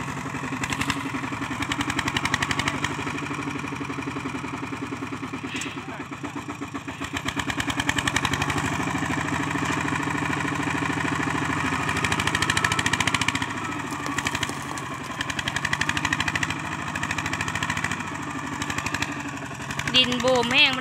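Farm tractor engine running at idle in a dry field, a continuous low rumbling chug with steady mechanical hum throughout, while people talk over it.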